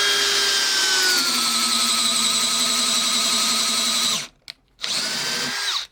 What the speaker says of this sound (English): So on first speed with this 1-inch Daredevil, I could feel it trying to turn my arm a lot more than the impact driver does.